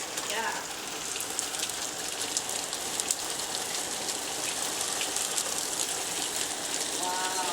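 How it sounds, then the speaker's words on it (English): Hail falls on surfaces in Michigan as a dense, crackling patter of countless small impacts, steady and continuous throughout. "I haven't seen hail in years."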